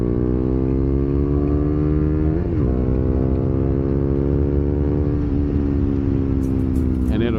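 A KTM 390 Duke single-cylinder naked motorcycle pulls hard after a downshift, its engine note climbing steadily in a loud, close buzzing drone that dips briefly at each gear change.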